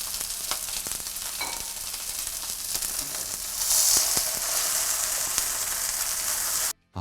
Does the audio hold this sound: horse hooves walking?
no